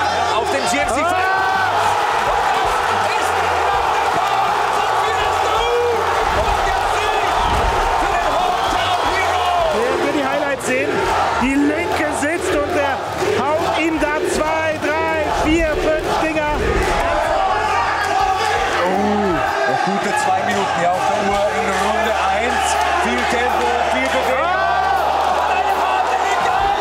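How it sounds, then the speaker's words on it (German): Loud, continuous crowd roar at a GMC mixed martial arts fight event, with cheers and shouts swelling throughout under steady commentary. "Das Publikum ist laut."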